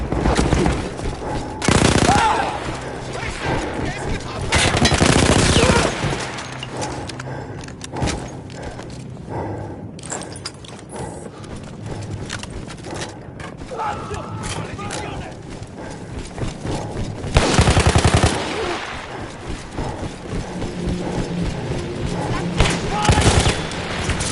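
Mounted machine gun in Battlefield 1, seized from Austro-Hungarian troops, hammers out several loud broadband bursts between quieter stretches, with someone narrating over the gameplay throughout.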